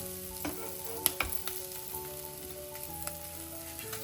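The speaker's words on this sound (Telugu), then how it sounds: "సిమ్లో పెట్టేస్తే మొత్తం మంచిగా అన్నీ వేగుతాయి" Ivy gourd fries gently over a low flame in a pan, giving a soft, steady sizzle with a few light clicks and scrapes.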